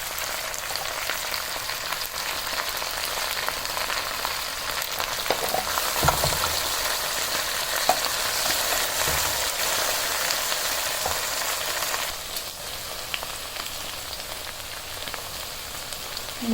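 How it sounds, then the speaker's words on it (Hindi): Okra fries in hot oil over a high flame, a dense, even hiss like rain on a surface, close and steady throughout with slight swells in intensity and no talking. "इसको हाई फ्लेम पे हमने फ्राई करना ताकि भिंडियों की जो लेस है वो सारी ख़त्म हो जाए।"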